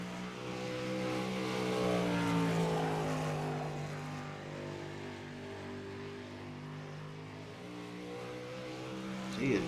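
Dirt track race car on its first lap at Knoxville, a sustained loud engine drone with shifting harmonic pitch that swells, eases and rises again near the end, with no talk over it.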